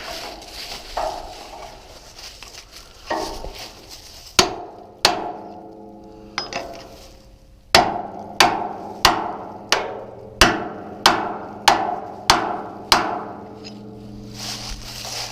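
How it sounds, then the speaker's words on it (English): About a dozen sharp metallic blows of a hammer on a 4-inch chisel, loud and close, landing in a steady rhythm with ringing decay, a few scattered taps first. "I got my hammer and my trusty 4-inch chisel, and that should just knock right through"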